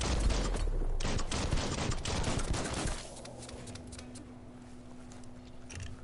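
Player's guns firing in the video game Biomutant, a dense rapid burst of shots for about three seconds, then quieter fading rattles and a low hum.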